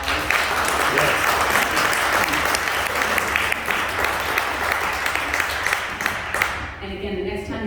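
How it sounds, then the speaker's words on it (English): An audience at an annual general meeting breaks into sustained applause, with dense, continuous clapping from a crowd that fades at the end as a voice begins to speak. "let's give her a round of applause"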